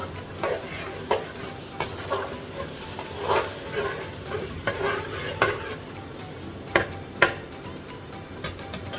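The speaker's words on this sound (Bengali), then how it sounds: "মশলাটাকে কষিয়ে নিচ্ছি" Spice masala is stirred and fried in a pan, with a continuous sizzle broken by repeated scraping strokes of the spoon at an irregular rhythm, close and fairly loud.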